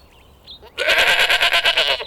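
A goat bleats once in a loud, wavering, quavering call lasting over a second, clear and close, following a quieter lead-in.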